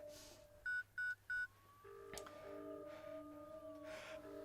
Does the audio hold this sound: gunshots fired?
no